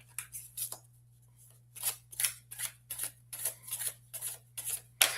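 A Nested Tarot deck of cards is shuffled close up in a quick series of crisp, papery riffling bursts separated by brief pauses.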